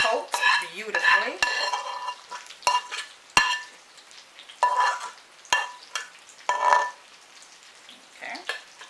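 Cooked pasta being mixed with tomato sauce in a pot for chicken parmesan, with separate wet squelches and sharp spoon clinks against the metal at uneven intervals, close and fairly loud, with gaps of near quiet between them.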